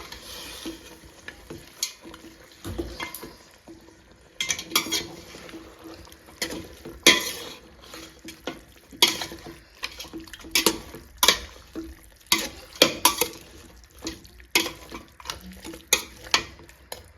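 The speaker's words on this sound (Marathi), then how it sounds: "आता हे मटण त्याच्यामध्ये टाकून घेऊया आता हे आपण व्यवस्थित मिक्स करून घ्यायचं आहे तेलामध्ये" Mutton pieces being stirred in hot oil in a pan, with a steady sizzle and repeated scraping, clattering stirs that come in bursts, close and fairly loud, with no talk.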